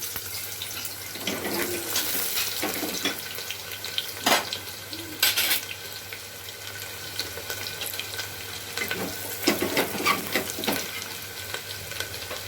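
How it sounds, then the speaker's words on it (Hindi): Onion frying in hot mustard oil for chana masala, a steady soft sizzle running throughout with occasional louder crackles and brief clinks of a utensil against the pan, no voices. "सरसों का तेल, तेल जल जाने के बाद एक प्याज डाल दीजिए फ्राई करने के लिए।"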